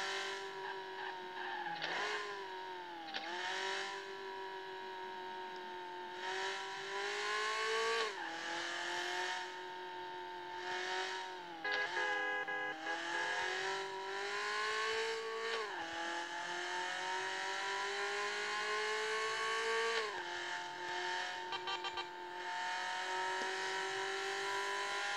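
A race car engine in the driving game Racing Limits holds a steady high whine at top speed, pitch dipping and climbing again with gear changes and throttle lifts, continuous and fairly close with no talk.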